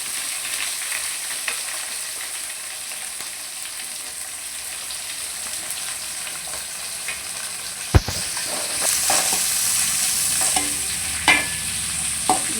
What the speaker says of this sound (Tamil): பாருங்க, வெங்காயம் வதங்கிட்டு இருக்கு.